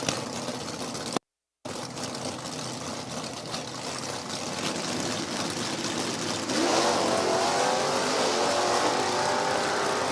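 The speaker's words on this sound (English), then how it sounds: "Looks like these Camaros going to go as a pair." Two Chevrolet Camaro drag racers, a first-gen '69 Camaro and a Gen 5 Camaro, at an NHRA Division 4 event at No Problem Raceway, idle and rev before launching into a louder, rising engine roar that runs on continuously.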